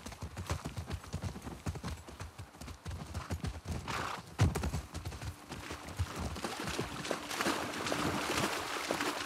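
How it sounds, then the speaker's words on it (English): Horse hooves clip-clop steadily in The Last of Us Part II, a continuous close rhythm of hoof strikes over soft ambient game sound with the occasional snort. "But I believe the horse is here."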